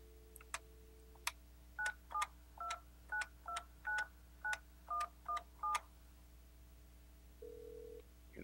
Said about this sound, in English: And now dial the number I'd like to reach.